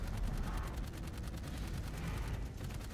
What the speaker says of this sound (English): Also, it shoots at you with the machine gun.